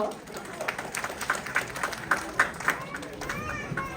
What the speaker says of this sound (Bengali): একটা হাততালি দেন তাদের জন্য